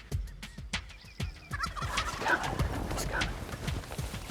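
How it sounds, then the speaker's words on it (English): A wild turkey gobble rings out over a run of sharp clicking knocks, followed by a denser, rough stretch of noise that fills the rest of the moment. "Man, the turkeys were on. They were gobbling like crazy."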